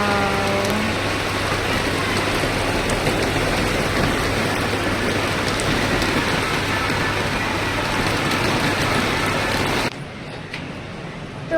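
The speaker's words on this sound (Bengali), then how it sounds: "তো বাইরে বৃষ্টি পড়ছে," Steady rain falls outside a home during a sudden cloudy downpour, a dense continuous hiss that holds evenly for about ten seconds and then drops to a quieter patter.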